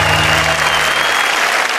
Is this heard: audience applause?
yes